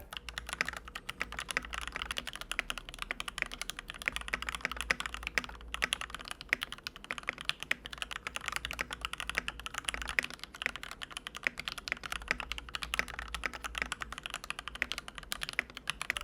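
Continuous, fairly quiet typing on an XM87 TKL mechanical keyboard filled with silicone and lined with EVA foam, a steady stream of clacking keystrokes with no voices.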